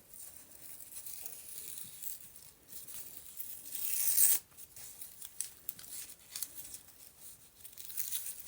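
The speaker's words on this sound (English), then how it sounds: "I'm going to rip it off so it looks like it's someone had glued it down" Glued-down paper is ripped away in a tearing and crinkling rustle, close and quiet, with small scratchy bursts and one louder, longer rip midway.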